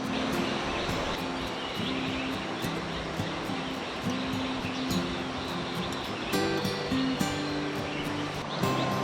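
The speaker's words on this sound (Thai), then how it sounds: "ได้ยินเสียงน้ำนอนฟังเสียงฝนแล้วก็เสียงน้ำไหล" Stream water flowing steadily beside a forest homestay near a tea plantation in Chiang Dao, a constant broadband rush close by with faint bird chirps and a low hum underneath.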